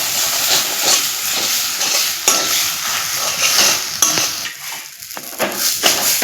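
A spoon or spatula scrapes and turns a spiced potato filling in a cooking pan, with loud, continuous stirring over a low sizzle, repeated metal clinks and scrapes, and no voices.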